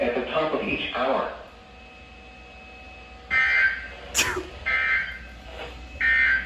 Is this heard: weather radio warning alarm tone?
yes